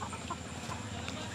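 Sonali desi chickens packed into crates loaded on a vehicle, clucking and rustling close by in a busy, continuous mix with faint background noise.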